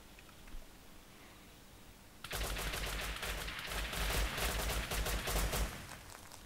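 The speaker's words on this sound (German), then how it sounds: "Und jetzt knallt er sie ab." Gunfire in the video game Rust: after a quiet start, a dense, loud burst of rapid shots rattles on for about four seconds, with no talking.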